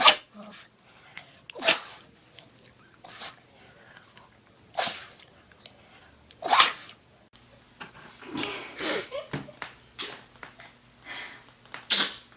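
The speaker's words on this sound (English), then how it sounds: "You sneezed on me." A dog sneezes repeatedly, sharp short bursts spaced a second or two apart, close and fairly loud, with a person talking softly in between.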